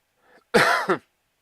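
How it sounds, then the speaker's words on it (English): A single harsh cough burst, close and fairly loud, preceded by a faint breathy rasp and ending with a shorter second hack. "I do apologize for the constant coughing."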